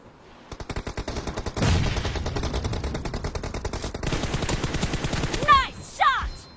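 A shooting video game produces rapid bursts of gunfire: rhythmic, evenly spaced shots rattle in fast sequences, pause briefly, and resume, with short chirping effects and a brief voice near the end.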